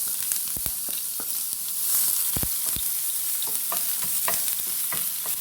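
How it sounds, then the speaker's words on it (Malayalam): Ginger and garlic frying in hot coconut oil, a steady close sizzle with irregular stirring clicks and scrapes throughout. "നമുക്ക് ചൂടായ വെളിച്ചെണ്ണയിൽ ഇഞ്ചി വെളുത്തുള്ളി ആദ്യം ഇടുന്നുണ്ട്"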